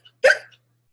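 A single voiced hiccup, imitated by a reader telling a skeleton story, one short loud close gulp alone in silence.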